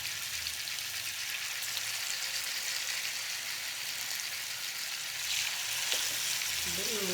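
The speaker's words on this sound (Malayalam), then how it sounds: "ഇപ്പം നമ്മൾ എടുത്ത് വെച്ചിട്ടുള്ള മീൻ ഓരോന്നോരോന്നായിട്ട് ഇതിലോട്ട് ഇട്ട് കൊടുക്കുക." Fish pieces frying in hot coconut oil, a steady dense sizzle and crackle running throughout, close and fairly loud, with a brief clink near the end and no talking.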